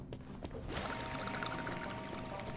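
Water gushes steadily from a hose in the video game Crime Scene Cleaner, a continuous broadband pouring stream that swells after a brief quieter start and carries on close and unbroken.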